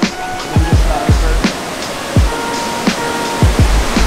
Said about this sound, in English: Waterfalls are raging this year because of all the snow melt.